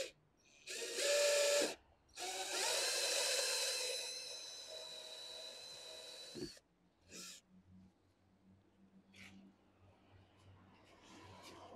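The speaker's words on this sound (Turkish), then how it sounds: "delme işlemine geçelim isterseniz" A drill bores holes in the plastic bumper of a 2024 Fiat Fiorino to fit parking sensors. Two loud, whining bursts are heard up close, the second one longer, then a few quieter clicks and rattles follow.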